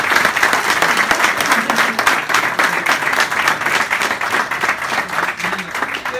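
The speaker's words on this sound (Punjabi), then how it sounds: "ਤਾੜੀਆਂ ਮਾਰੋ ਇੱਕ ਵਾਰੀ ਖੁੱਲ੍ਹ ਕੇ" An audience at a UK cup event in Peterborough claps steadily and loudly throughout, a dense continuous wash of hands with no gaps and a faint voice or two underneath.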